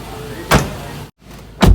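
A car's power window runs in two short motor whirs, each ending with a firm thump, separated by a brief silent gap, close and clear with no talking.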